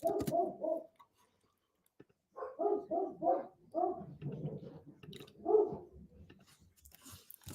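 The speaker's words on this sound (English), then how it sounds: "I got an angry dog downstairs." An angry dog barks downstairs, heard as several clusters of rapid, gruff barks with short pauses between them, moderately loud and slightly distant, with no talk over it.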